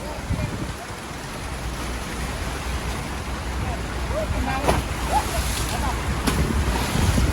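Continuous loud rush of a flooded river's churning water after a typhoon in Candaba, Pampanga, mixed with gusty wind noise on the microphone, with a few faint voices and birdlike chirps in the background.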